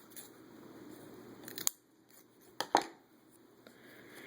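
Scissors snip off material for a traditional-style mum ring, a few sharp close cuts separated by quiet pauses, with faint handling rustle in between.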